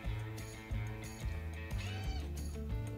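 A cat meows repeatedly, loud and close, a series of drawn-out cries in quick succession with no other sound between them.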